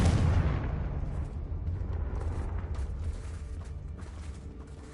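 A Confringo blasting spell detonates in Hogwarts Legacy, a heavy explosive boom at the onset followed by several seconds of rumbling, crackling debris that slowly fades.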